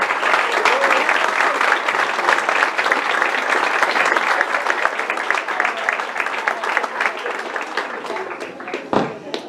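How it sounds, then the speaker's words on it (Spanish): Loud, dense applause from a large audience at a Paraguayan culture night of dance and music, a continuous roar of clapping that fades slightly toward the end. "Fuertes aplausos."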